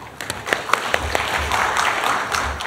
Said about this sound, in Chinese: 大家掌声欢迎来